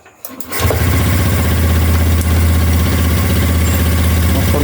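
A Honda Beat ESP motorcycle engine cranks briefly and catches within a second, then settles into a loud, steady idle with a low, even rumble.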